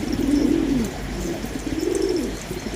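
Pet pigeons coo up close, two soft, low, drawn-out rolling calls over a constant background hum.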